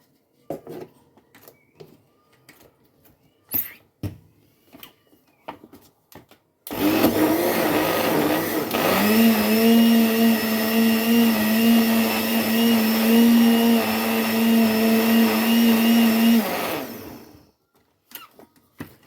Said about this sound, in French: Ensuite, nous allons encore mixer une seconde fois.